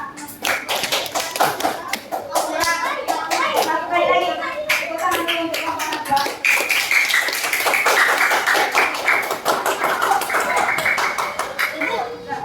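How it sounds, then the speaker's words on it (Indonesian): Fifth-grade pupils in a primary school classroom clap for a classmate's group, sharp uneven hand claps and taps mixed with thumps and children's chatter over the whole span. "Sekali lagi, tepuk tangan dulu untuk kelompok Nabila."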